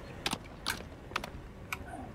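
Computer keyboard typing in a video game: four short clusters of key clacks, close and fairly crisp, separated by brief pauses over a quiet background.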